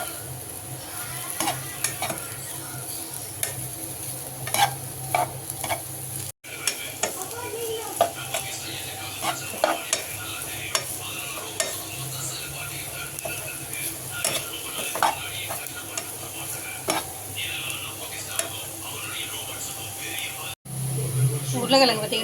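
Potatoes frying in a heavy nonstick pan, a continuous sizzle dotted with frequent scraping and tapping of a stirring spoon and a clatter near the end. A voice talks over it at times.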